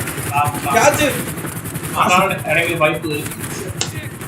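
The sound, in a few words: gunfire in the video game GTA 5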